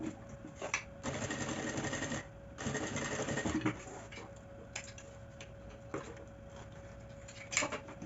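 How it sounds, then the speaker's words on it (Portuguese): A sewing machine stitches a fabric bag strap with backstitching at the start and end, running in two steady whirring bursts of about a second each, followed by quieter ticks and clicks as the work is adjusted, close up. "vou passar uma costura com retrocesso no começo e no final"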